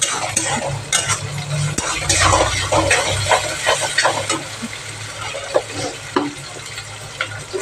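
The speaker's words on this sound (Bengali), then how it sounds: "করে নেড়ে নেবো চালটা" Rice being fried in a pan with bay leaves is stirred, giving a steady close sizzle broken by repeated scraping and clinking strokes, with no talking.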